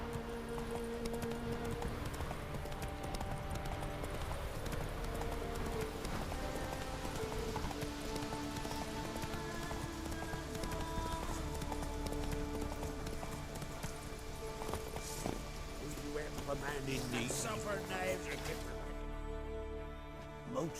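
Roach the horse trots in The Witcher 3, its hooves clip-clopping steadily through quiet, faint in-game ambience, with a soft voice briefly audible.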